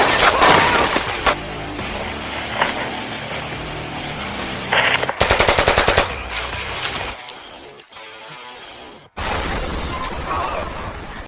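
Machine gun fire in a film fight scene, with dense rapid bursts, loud cracks and impacts, and music and effects shifting between gaps of quieter sound.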